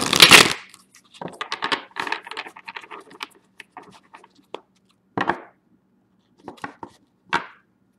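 Tarot cards are shuffled in a series of crisp riffling and tapping bursts, close up and fairly loud, with pauses between the final few snaps.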